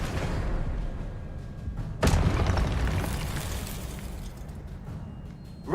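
An Expelliarmus spell in a wizard video game: one sharp, booming impact about two seconds in, followed by a decaying rumble over continuous game background noise, close and loud, with no voices.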